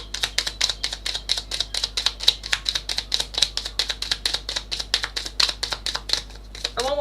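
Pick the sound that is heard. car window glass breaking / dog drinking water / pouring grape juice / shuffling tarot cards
shuffling tarot cards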